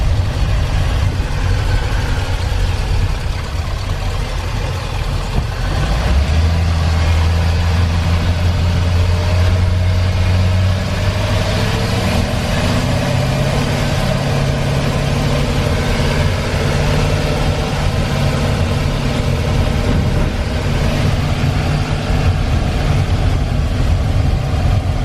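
A van fitted with a rebuilt 4L80 transmission pulls away from a stop, its engine rising in pitch and loudness through successive shifts, a close, continuous drone with no talking.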